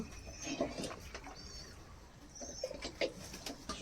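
Pigeons arriving and flying at a loft: faint, soft coos and wing flutters come in scattered bursts against a quiet background.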